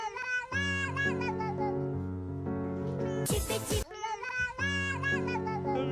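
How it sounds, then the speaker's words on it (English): A sad cat meows repeatedly from a video being played, giving long, tonal, slightly pitch-bending cries. A short burst of noise cuts in partway through. "I love the sad cat."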